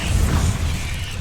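A Confringo blasting spell goes off in a magic trial within a video game, a loud, steady, low rumbling burst with mechanical crackle that holds for about a second without fading.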